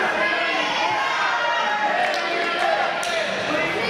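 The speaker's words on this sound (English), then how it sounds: "You hear the crowd divided 50-50." Crowd noise at a live professional wrestling event, a loud, constant roar of cheering and chanting fans filling the arena, with a few sharp thuds and a commentator's voice blending into the din.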